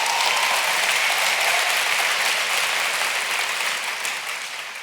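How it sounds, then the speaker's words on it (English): A conference session audience applauds, a dense steady wash of clapping that holds for several seconds and then gradually tapers toward the end. "let's give him a round of applause."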